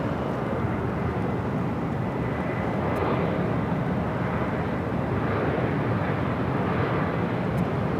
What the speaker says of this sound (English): Another E-Jets on its way in.